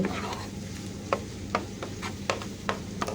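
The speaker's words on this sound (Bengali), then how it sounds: "এগুলি দিয়ে আবার আমি নাড়াচাড়া করে এটা মিশিয়ে নেব।" Noodles being stirred and mixed with eggs in a pan, a soft sizzle running underneath while a spatula scrapes and taps the pan in a series of sharp, irregular knocks, close and alone.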